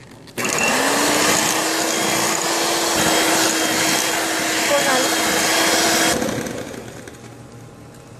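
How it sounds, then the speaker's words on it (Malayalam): An electric mixer whirs loudly and steadily while beating eggs for a biscuit mocha pudding, running for several seconds before winding down. "ഇപ്പോൾ മുട്ടയും നന്നായി ബീറ്റ് ചെയ്ത് കഴിഞ്ഞു."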